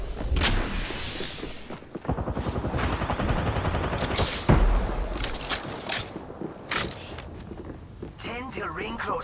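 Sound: gunfire in Apex Legends video game

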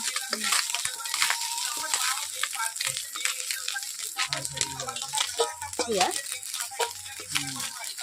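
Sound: fish frying in a wok

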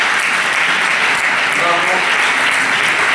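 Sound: audience applauding courageous patient

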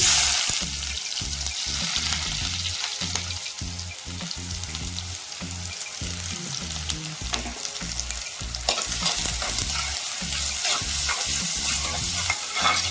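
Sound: onions sautéing in oil after mustard seeds splutter

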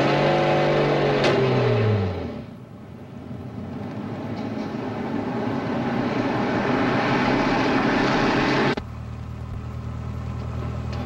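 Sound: taxi driving off quickly

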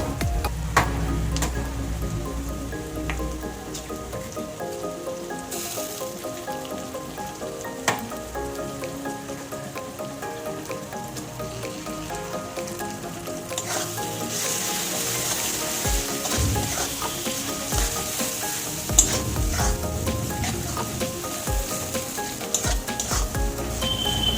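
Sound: eggs frying in a pan

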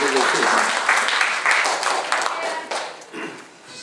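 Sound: audience applause

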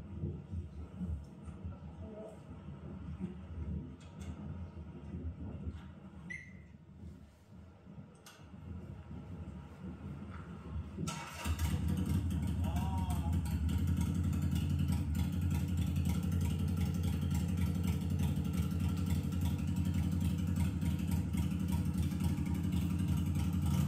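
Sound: motorcycle engine with aftermarket Bass muffler

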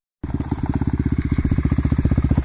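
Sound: all-wheel-drive motorcycle engine

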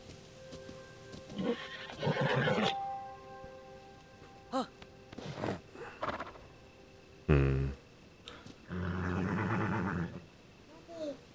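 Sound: horse neighing in The Legend of Zelda: Tears of the Kingdom video game

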